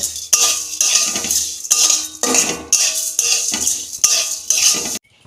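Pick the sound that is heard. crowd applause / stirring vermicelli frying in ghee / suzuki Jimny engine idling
stirring vermicelli frying in ghee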